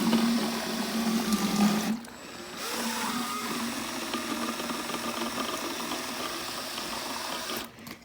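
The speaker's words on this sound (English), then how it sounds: "my little handy dandy drill. It's my mixing tool. And I'm gonna go and get some agitation going." Handheld drill used as a mixer stirring pre-emergent lawn treatment into warm water, a steady whirring motor with churning water, briefly cutting out around two seconds and again near the end.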